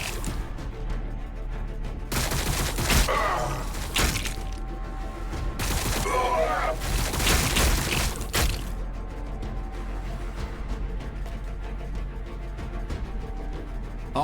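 Heavy weapons fire in Warhammer 40,000 Battlesector, several loud broadband blasts and crackling bursts spaced a few seconds apart over steady battlefield rumble, fading to quieter ambience afterward.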